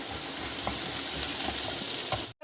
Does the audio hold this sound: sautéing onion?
yes